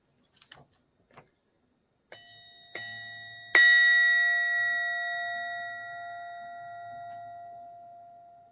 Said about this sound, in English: Give it another gong, mate. Give it another blow.